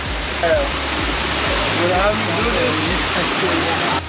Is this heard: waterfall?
yes